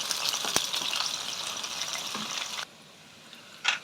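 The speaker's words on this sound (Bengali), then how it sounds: "এবার পেঁয়াজ আর লঙ্কাটা আমি একটু সুন্দর করে একটু ভেজে নিব।" Onion and chili frying in a pan, a bright, steady sizzle with a sharp tap early on that drops abruptly to near silence, then a brief burst of hissing returns.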